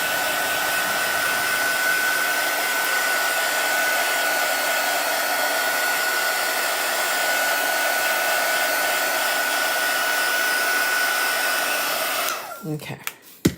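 A hair dryer blows steadily and loudly at close range to dry chalk paste on a craft project, a constant whirring roar that runs without a break. It cuts off abruptly near the end, leaving brief handling noises.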